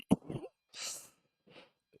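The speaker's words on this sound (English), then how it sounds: "That cough came out of nowhere." A single sharp cough close to the microphone, followed by a breathy exhale and a softer throat sound, with silence between them.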